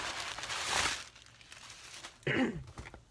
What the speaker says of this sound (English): first the noisy paper, let's get that out of the way